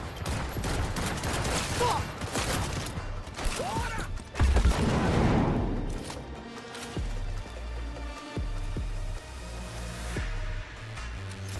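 Turret gunfire in the video game Cyberpunk 2077 (Phantom Liberty), dense bursts of shots and mechanical clatter running throughout at steady loudness, with a brief spoken word partway through.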